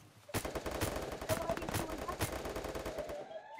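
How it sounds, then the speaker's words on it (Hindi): A new gun in a video game fires a rapid burst of sharp, evenly spaced shots, heard close and fairly loud for a few seconds. "ये न्यू गन क्या ही चलती है यार"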